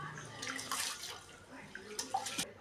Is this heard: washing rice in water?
yes